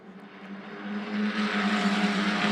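Euro 4 single-seater race cars charge up the hill into turn 1 at the Red Bull Ring as a pack, their engine drone swelling from faint to loud and holding a sustained high whine.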